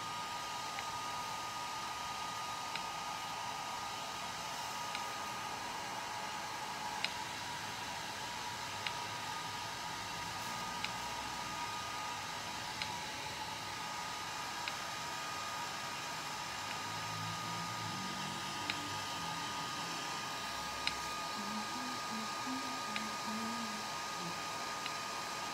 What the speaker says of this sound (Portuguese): Ou se for secar, não seca tão de perto e nem com o secador na velocidade máxima